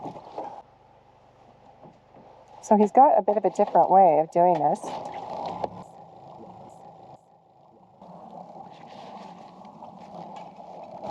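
A small outboard motor on a 12-foot skiff drones steadily on the water off a remote Canadian island while someone talks over it.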